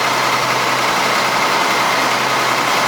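A Ford TW25 tractor engine runs continuously as the tractor rounds a curve under autosteer, a loud, steady, close drone with no break and no voices.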